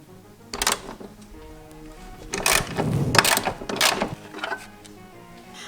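A ratchet with a 13 mm socket works a bolt loose on a 1.4-litre 80 hp VW during a timing belt and water pump job, giving bursts of quick mechanical clicking with brief pauses between strokes, close and fairly loud.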